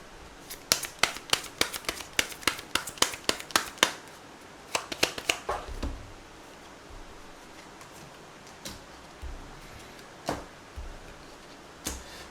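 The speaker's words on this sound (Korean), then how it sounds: "우리 또 조언 카드 한번 뽑아보죠" Tarot advice cards being shuffled and drawn, a quick burst of crisp card flicks and snaps followed by a few scattered, sparser taps, close and fairly quiet with no talk.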